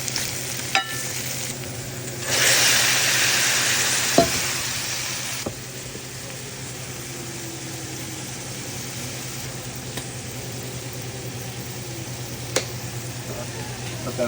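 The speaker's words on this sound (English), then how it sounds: "And just need to stir the pot." White scallions are stirred in a sizzling pot during home cooking of a chicken sausage rigatoni meal, a steady frying hiss with a louder burst of sizzle and occasional utensil clinks against the pot.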